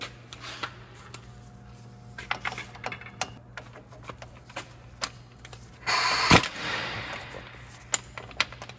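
A ratchet with a swivel runs down front axle bolts on a 2011 Dodge Ram 3500 6.7L diesel, giving rapid clicking bursts with one loud harsh burst near the end.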